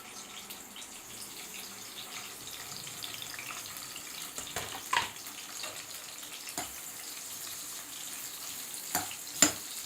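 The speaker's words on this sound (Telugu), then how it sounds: "బాబు వంకాయలు కడగాలి." Tap water running steadily while brinjals are washed in a home kitchen, a soft continuous splashing with a few clinks and knocks scattered through it.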